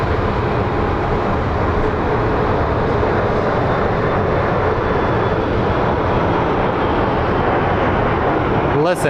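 A jet airliner at Sky Harbor International Airport in Phoenix gives off a loud, steady broadband roar that holds for the whole stretch, with a brief extra burst of noise right at the end.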